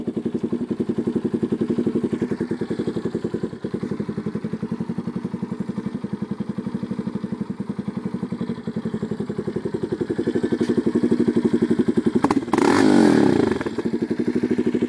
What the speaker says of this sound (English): I love this 4-stroke sound, but I like my 2-stroke better.